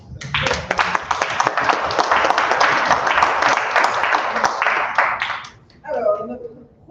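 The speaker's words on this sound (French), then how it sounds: "On peut l'applaudir." Audience applause at a graduation ceremony of a Quebec international business institute, dense steady clapping from a crowd lasting several seconds before fading, followed by a brief spoken voice.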